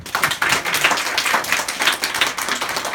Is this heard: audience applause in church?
yes